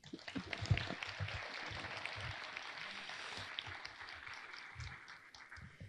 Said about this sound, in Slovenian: je zdaj prav, da zaploskamo DataLabu 26-kratno močjo za njihovih 26 let